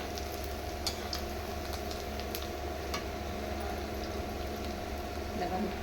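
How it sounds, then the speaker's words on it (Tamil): Vada and idli cook on a stove, producing a low steady bubbling and frying hiss with faint crackles and a constant hum underneath, quiet and even throughout. "இதோ வடை வெந்துட்டே இருக்கு. அந்த பக்கம் இட்லி வெந்துட்டே இருக்கு."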